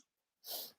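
A single short, sharp sneeze bursts out after a near-silent moment, close and brief.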